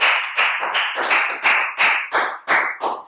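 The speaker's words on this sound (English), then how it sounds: "Big round of applause for Net" Classroom applause for a student after solving a long-division problem at the board, a dense, steady round of clapping from many hands, loud and close, continuing throughout with no talk.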